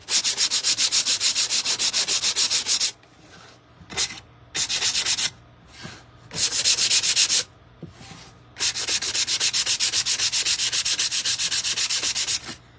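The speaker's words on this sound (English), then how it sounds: "I might just use some sandpaper" Sandpaper rubs hard against a painted wooden Santa plaque in fast, rhythmic back-and-forth strokes, loud and close, running in bursts with short pauses between them.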